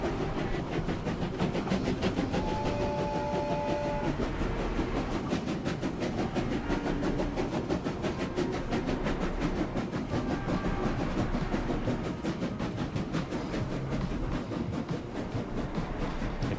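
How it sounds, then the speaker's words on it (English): Train from Clair Obscur: Expedition 33 rolling steadily, a constant mid-level rumble with faint rhythmic clatter and occasional soft tonal whines, no voices. "Oh, another train."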